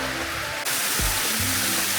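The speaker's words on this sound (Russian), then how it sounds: "Вот здесь уже заканчиваются плиты и начинается поток воды, мчащийся к Байкалу." A fast mountain stream rushing toward Lake Baikal, heard as a continuous broadband roar of flowing water, with a brief dip and a couple of low thumps partway through.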